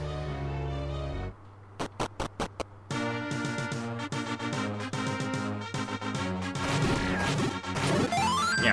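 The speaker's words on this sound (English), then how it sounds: "that little clinking sound you hear is the critical hit" Game music and chiptune sound effects from Zelda Classic, with short sharp metallic clinks of a critical hit standing out among bleeps and musical tones in a busy, loud mix.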